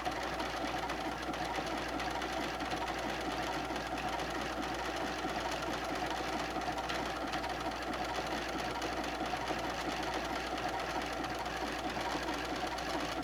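A sewing machine stitching a quilt top hums with a steady, fast mechanical rattle throughout, close and continuous, with no clear pauses.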